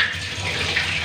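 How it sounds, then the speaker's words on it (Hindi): Water runs and sloshes steadily as lentils (dal) are rinsed in a village kitchen, a continuous close splashing with no talk. "अच्छे से वॉश करती हूँ दाल को"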